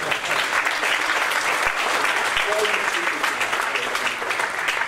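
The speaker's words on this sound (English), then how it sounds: "Would you give him a round of applause?" An audience at a symposium breaks into dense, sustained applause, many hands clapping steadily and loudly throughout, with no speech heard over it.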